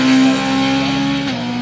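An Opel Kadett race car in the 2-litre class at a hill climb drones loudly and steadily nearby, its engine note holding one pitch before dropping briefly near the end.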